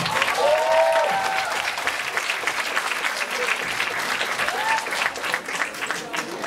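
Audience applause at a 2015 talent show in Lithuania, loud sustained clapping from a crowd that continues throughout, with a host's voice briefly heard over it.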